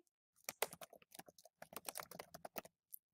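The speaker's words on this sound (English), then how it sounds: "I'm going to type in the nickname" Quick bursts of keystrokes on a computer keyboard, with uneven patters and short pauses. The clicks are soft and close, with no voices over them.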